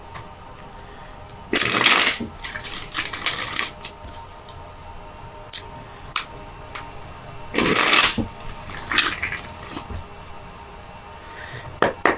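Tarot cards being shuffled for clarifier draws, heard as two loud riffling bursts with scattered soft card taps and slaps between them, close and with no talk.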